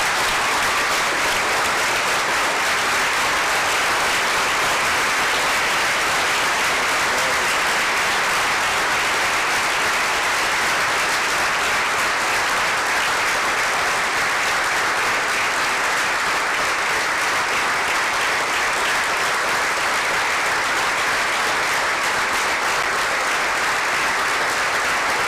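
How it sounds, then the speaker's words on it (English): Sustained audience applause fills a Board of Education meeting hall to honor the Teacher of the Year, a dense, even wash of clapping that holds steady for about twenty-five seconds without a break. "Ladies and gentlemen, please join me in applause as we honor Shiraz 2000 Teacher of the Year, Mrs. Jessica Uvegas Lenegro."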